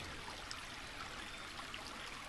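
A water stream on a hiking trail by Lincoln Lake gives a steady, faint rushing hiss that stays even and unbroken throughout, with no voices.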